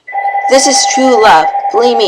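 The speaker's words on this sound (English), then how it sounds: "Sorry, that's the phone going off." A telephone rings steadily with a repeating tonal pattern beneath a voice, who keeps talking over the ringing for the whole stretch.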